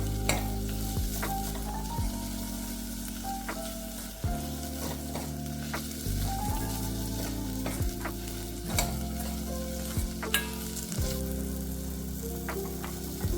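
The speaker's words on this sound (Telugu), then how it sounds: "మనకి ఉల్లిపాయలు గోల్డెన్ బ్రౌన్ కలర్లోకి వచ్చాయి కాబట్టి ఇప్పుడు ఒక టమాటో చిన్నగా కట్ చేసుకొని వేసుకుందాం." Chopped tomato frying with golden brown onions for a vegetable kurma, a steady close sizzle broken by regular stirring scrapes and small clinks, with no talking.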